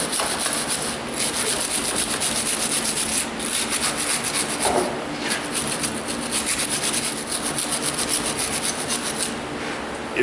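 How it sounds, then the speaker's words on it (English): A metal wire brush scrubs foaming corrosion off the terminals of a Toyota Corolla car battery, a steady, gritty rasping that runs continuously and fairly close with no talking. "let's use our brush to start scrubbing off some of this corrosion"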